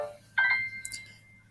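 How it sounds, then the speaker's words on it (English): A mobile phone briefly sounds a short electronic ring tone, a single clear tonal chirp followed by a faint trailing beep, close by in an otherwise quiet room. "that was my phone going off"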